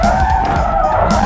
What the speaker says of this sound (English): Brake hard. Real hard.